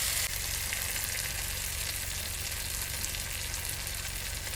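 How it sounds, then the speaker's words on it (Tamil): Ground masala paste and tomatoes for crab masala sautéing in a pan, a steady, close sizzle and fry hiss that holds evenly throughout with no talking. "இந்த மசாலாவை கொஞ்சம் நல்லா இந்த பச்சை வாசம் போகிற அளவுக்கு ஒரு 5 நிமிஷம் இப்படி நல்லா வதக்கிட்டே இருங்க"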